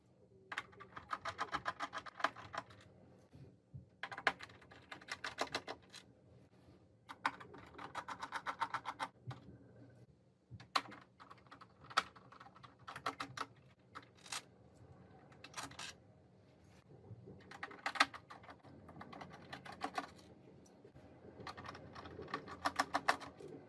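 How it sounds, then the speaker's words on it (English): Screws come out of a PS5 CFI-1200 console case in quiet, scattered bursts of small metallic clicks and ticks, broken by short pauses. "Remove the 11 screws securing the case."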